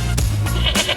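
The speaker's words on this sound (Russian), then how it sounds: "коза стоит, смотри." Goat standing outside a hotel in Mumbai gives a short, close bleat, loud and clear for about a second with no talk over it.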